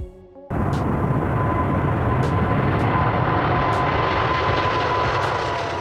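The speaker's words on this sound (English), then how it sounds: "The Airbus A380-800 is the largest passenger aircraft in the world" An Airbus A380-800 double-deck passenger jet roars loudly and steadily after a sudden onset, a broad continuous engine rumble with a faint high whine and no voices.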